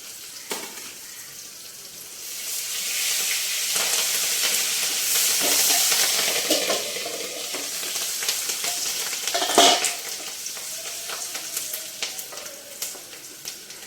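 Small peeled garlic cloves and curry leaves fry in hot oil with a loud, steady sizzle that swells and fades. Stirring scrapes and a sharp clatter break in, close up, with no voices.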